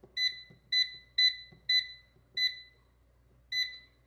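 An air fryer beeps repeatedly as its preheat button is pressed, six clear, evenly spaced electronic tones ringing out alone in a quiet kitchen.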